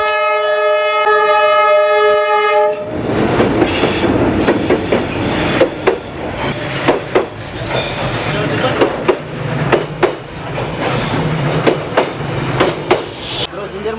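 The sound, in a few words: train passing along Hanoi Train Street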